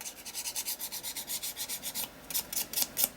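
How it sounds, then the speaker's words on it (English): Emery board rubbing back and forth along the edge of a piece of cardstock, a steady run of close, soft rasping strokes that briefly pause and then resume. "I've got an emery board here,"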